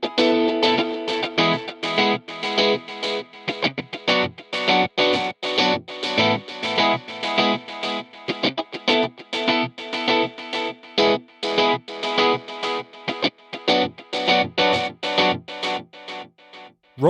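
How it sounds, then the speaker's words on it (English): A Roland RE-201 Space Echo plugin runs a played instrument through spring reverb combined with tape delay, giving dense rhythmic distorted chords with repeating echoes and a wash of reverb throughout, loud and continuous with no voices. "a combination of the reverb in conjunction with tape delay"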